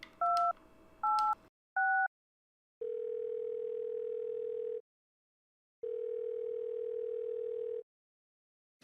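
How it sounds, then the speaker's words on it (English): Telephone dialing in the adventure game Thimbleweed Park: three quick two-tone keypad beeps, then two long steady ringback tones separated by a pause, clean and close with no voices. "use the phone of Agent Ray and just simply dial that number"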